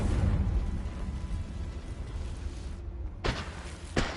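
Confringo fire spell explosions in Hogwarts Legacy: a loud booming blast with a long rumbling decay, then two sharper bursts near the end.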